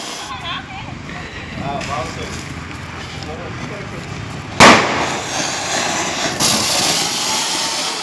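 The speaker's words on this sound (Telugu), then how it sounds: "evening crackers కాల్చారనమాట" Diwali firecrackers set off in the evening: a sharp, loud burst near the middle, then a second crackling blast, with people talking and a steady background bustle throughout.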